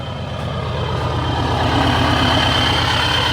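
A Ford 7.3 Powerstroke diesel engine in a pickup truck runs steadily after an engine swap, a loud, low, rhythmic diesel rumble holding constant throughout with no talking.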